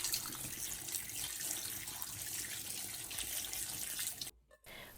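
Cold tap water runs in a steady, hissing rush over potatoes in a kitchen sink, then briefly cuts out before resuming at the end.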